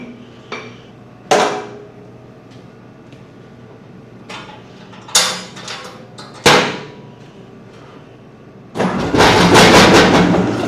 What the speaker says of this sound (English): All right, now we're going to grind this out.